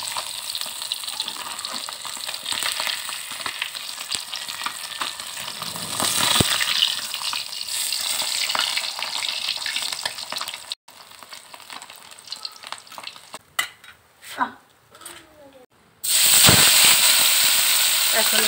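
Pabda fish fry in hot oil in a pan, a loud continuous sizzle with crackles and occasional pops, close up, briefly interrupted near the end by handling noises and a fresh burst of sizzling.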